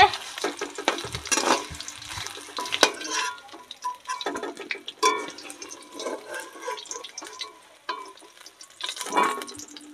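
Tilapia fish sizzles and spatters in oil, with irregular crackling bursts rising and falling, close by, plus occasional clinks of stirring.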